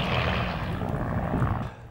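A 1930s De Havilland biplane passenger airliner, such as a Fox Moth, at an air show, its piston engine and propeller giving a steady, loud, close droning rumble throughout.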